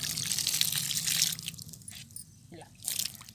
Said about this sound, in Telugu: ఇప్పుడు వాటర్ అయితే ఇచ్చేద్దాము.